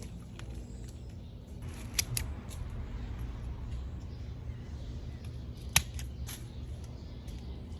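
Garden shears snip through rose plant stems as they are pruned back for regrowth, a few sharp clicks standing out over steady outdoor background noise, with two louder cuts close by.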